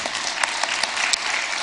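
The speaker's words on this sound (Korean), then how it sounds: "그리고 일단 한번 박수를 한번 쳐주세요." A church congregation breaks into steady applause together, with dense overlapping claps sustained throughout at moderate loudness and no talking over them.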